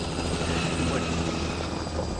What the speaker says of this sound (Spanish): suenan helicópteros ahí y todo